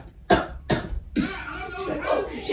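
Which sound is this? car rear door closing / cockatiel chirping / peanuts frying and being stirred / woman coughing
woman coughing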